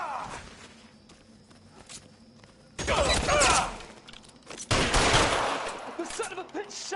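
Gunfire in the L.A. Noire video game: two loud bursts of shots crack out amid a shootout, rising from a quieter stretch with faint background voices and movement in between.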